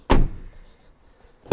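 A 2010 Kia Venga rear door with a repaired lock shuts with a loud, close thud, followed a moment later by a second sharp mechanical clunk as it locks.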